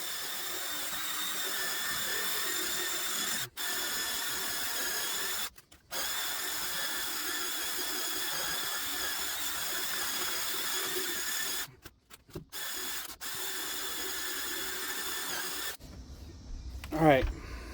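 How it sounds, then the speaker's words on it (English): A cordless drill with a brush attachment scrubs a Chevrolet Silverado's carpet, whirring steadily with a scrubbing drone, stopping briefly a few times, then cutting out near the end as a voice speaks. "I got the drill and the drill brush."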